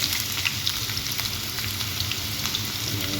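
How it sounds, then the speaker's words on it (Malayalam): Cinnamon and cloves fry in hot oil in a pan, giving a loud, dense, continuous crackling sizzle with small pops, close and steady throughout. "ഈ എണ്ണ ഒഴിച്ച് കുറച്ച് പട്ട, ഗ്രാമ്പു അതെല്ലാം കൂടെ ഇട്ട് കേട്ടോ"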